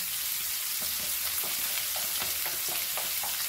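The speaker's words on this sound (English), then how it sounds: "And fry this very nicely." Onion frying in a pan for Goan prawn-stuffed padwal, a dense, even close sizzle with faint crackling pops throughout, no voices.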